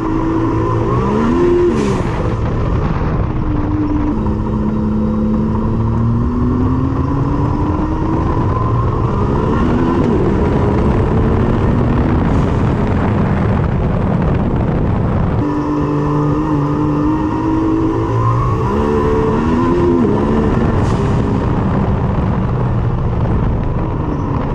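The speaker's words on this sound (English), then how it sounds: "YXZ with a Weller Racing built motor and the new turbo kit. And this thing runs good." Yamaha YXZ side-by-side with a Weller Racing built motor and a new turbo kit, driving on sand dunes at Little Sahara, Oklahoma; loud, close engine revving and accelerating in repeated surges, with rising and falling pitch.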